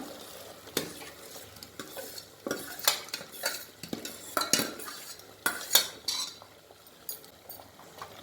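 A spoon stirs cooked sago into vermicelli payasam in a metal pot, giving irregular clinks and scrapes with soft wet sloshing, close and fairly quiet.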